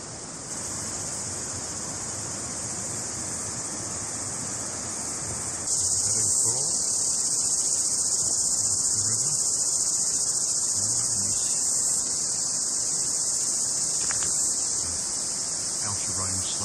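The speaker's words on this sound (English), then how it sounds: "Cicadas, very loud here." Loud, continuous cicada buzzing fills the air on the Paparoa Track, South Island, New Zealand, a steady high-pitched drone, growing even louder partway through, with no breaks.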